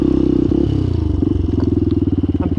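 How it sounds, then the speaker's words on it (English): Benelli TNT 135 motorcycle ridden off-road, its small single-cylinder engine chugging loud and close with a fast pulsing beat, rising and settling through throttle changes, with rattling clatter over rough ground. "I'm going to do a little bit of off-roading here, just because this is an ADV bike"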